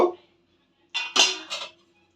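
Lifting a metal lid off a pot of simmering rohu fish curry: a short clatter, then a pause, then a cluster of three metallic clinks and scrapes in quick succession, close and fairly quiet.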